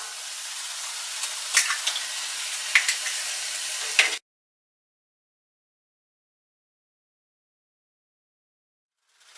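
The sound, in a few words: eggs frying with chicken for kothu parotta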